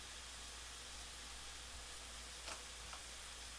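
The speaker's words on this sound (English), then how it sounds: "Can you guys hear that bacon sizzle?" Bacon sizzles steadily in a pan, a constant crackling hiss with a couple of small pops, close and fairly quiet.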